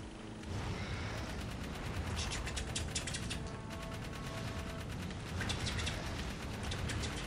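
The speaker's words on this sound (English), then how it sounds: "I like the sound effect for this gun" Rapid bursts of gunfire from a weapon in Jak 3 rattle off in quick repeated volleys over a constant rumbling game background, moderately loud with no voices.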